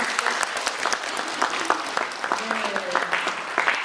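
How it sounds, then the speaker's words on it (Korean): Audience at a post-screening talk for a documentary film applauding warmly, a dense crackle of many hands clapping throughout, with a voice briefly audible beneath. "여러분 뜨거운 박수."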